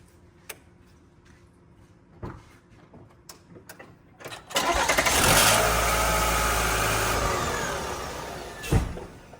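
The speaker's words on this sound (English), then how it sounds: "So you can see it starts right up, which is great" Car engine started after a jump start from a GK-J1204 jump starter: a few clicks and ticks first, then the engine cranks and catches into a loud, steady idle that slowly settles, close by.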